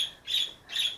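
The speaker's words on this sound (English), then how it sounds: "And my birds are going crazy." Pet birds chirp indoors in two quick, bright bursts close by, with no talking.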